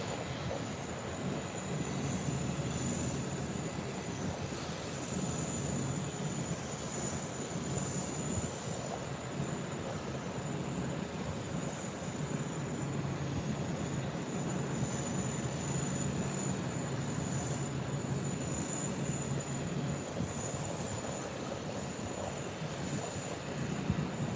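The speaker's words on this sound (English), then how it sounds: "there's an Emirates moving" An Emirates airliner taxiing at Heathrow at night, a steady distant jet engine roar and whine holding constant with faint background rumble, no talk.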